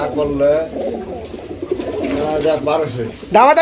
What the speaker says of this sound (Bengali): এগুলো কি শাইনিং কবুতর